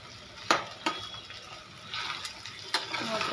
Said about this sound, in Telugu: ఇది కొంచెం వేగే వరకు వెయిట్ చేద్దాం